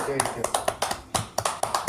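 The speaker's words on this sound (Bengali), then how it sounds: "হাততালি দে, হাততালি দে।" Several people clap in short, uneven bursts at a small Bengali song gathering, sharp hand strikes spaced through the clip with a voice talking underneath.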